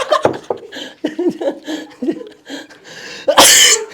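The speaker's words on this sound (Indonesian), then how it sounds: "Batuk." Several sharp coughs close up, mixed with throat clearing and a brief laugh, ending in a loud burst, during a heated debate.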